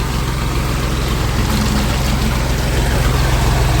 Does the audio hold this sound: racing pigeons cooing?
no